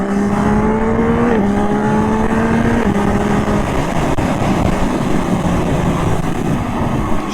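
Yamaha MT-09 motorcycle with an automatic transmission, its engine roaring loud and close during a wheelie, the pitch climbing through two quick shifts before settling into a steady high drone.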